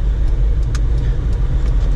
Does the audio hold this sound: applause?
no